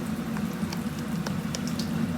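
Garelu, urad lentil fritters, fry in hot oil with a constant bubbling sizzle and scattered small crackles and pops, close and steady throughout with no talk.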